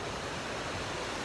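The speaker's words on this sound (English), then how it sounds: "We're downstream from the waterfall." Steady, dense rush of falling water heard downstream from a waterfall, a constant broadband roar without breaks, moderately loud and filling the background.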